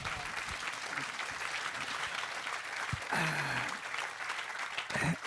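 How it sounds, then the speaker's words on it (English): Audience applause at an interview event with Admiral William H. McRaven, fairly faint, steady clapping from a crowd with a few brief sharper knocks and voices poking through. "That deserves applause"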